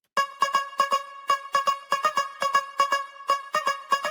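A bright plucked synth arpeggio loops in quick, steady rhythmic notes, clean and up front with no voices.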